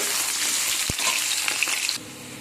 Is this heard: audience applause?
no